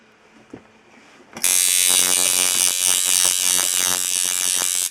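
A coil tattoo machine running at 6.4 volts buzzes on abruptly with a loud, steady, harsh electric hum, close by, after a few quiet clicks.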